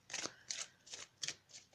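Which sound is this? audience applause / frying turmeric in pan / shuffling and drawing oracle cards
shuffling and drawing oracle cards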